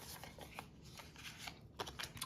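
Tarot cards being shuffled by hand, a soft, close, continuous riffling and sliding with quick papery flicks, faint and uneven in rhythm.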